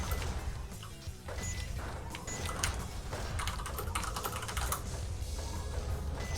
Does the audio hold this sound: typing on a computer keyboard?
yes